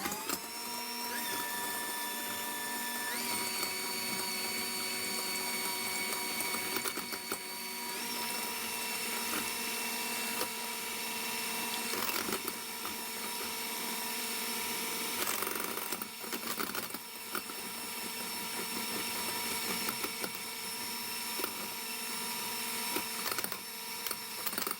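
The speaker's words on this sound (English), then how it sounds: "I'm going to beat this just until it's frothy" An electric hand mixer whirs steadily, beating egg white until frothy for candied pecans, a continuous close motor hum with slight pitch shifts and no talking.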